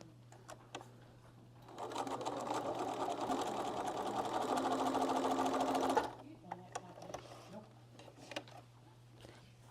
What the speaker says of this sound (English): then you can start sewing and match them as you go